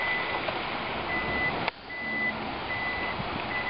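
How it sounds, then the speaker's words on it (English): Warning beeps from the power rear hatch of a Lexus RX 350 as it opens: a series of clear, evenly spaced electronic tones, close and steady, over a low background rumble with no talking. "thankfully it has a nice beeping noise too, to make sure you step back so you don't bang your head when it comes down"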